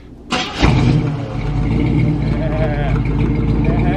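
A 1969 Camaro with a new loud exhaust cranks briefly and fires up, settling into a deep, rumbling, close idle. Voices are heard over the engine.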